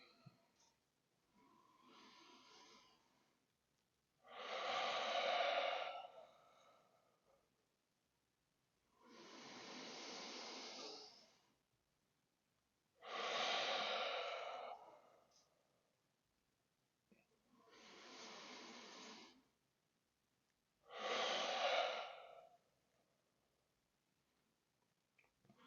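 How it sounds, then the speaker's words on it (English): Deep nasal yoga breaths taken with an open throat and closed mouth, a soft rushing hiss repeated in slow, even cycles of inhale and exhale, close and alone in a quiet room. "breathing, opening our throat so it feels like we're fogging up a mirror, but with our mouth closed. So 3 nice big breaths in."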